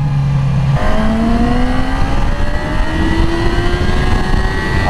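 Single-cylinder-sounding roar of a 2020 Yamaha R6 motorcycle engine accelerating through gears, each upshift marked by a pitch drop then a steady climb, loud and continuous with wind noise throughout.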